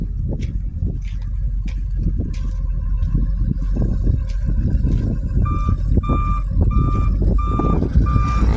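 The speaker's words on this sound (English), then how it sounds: "Beeping forklift." A forklift in a classic car junkyard repeats high reversing beeps at a steady pace near the end, over constant engine rumble and clattering machinery nearby.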